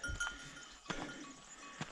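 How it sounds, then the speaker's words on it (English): A sheep on a mountain path gives a few short bleats, close and fairly quiet, spread unevenly over a calm outdoor background. "Hey sheep."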